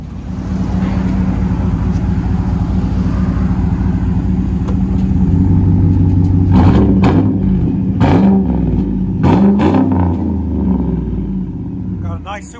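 Close to a supercharged GMC Sierra Denali 6.2L V8, a steady loud rumbling idle breaks into several quick throttle blips with rising roars near the end.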